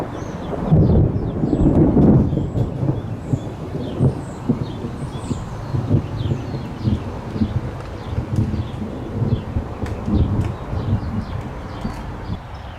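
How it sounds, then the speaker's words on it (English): Deep thunder rumbles and rolls across an open outdoor sky during a stormy spell while work goes on at a Pontiac Bonneville exhaust job, a loud swelling roar that lingers and fades, with birds chirping faintly in the background. "And there's the thunder."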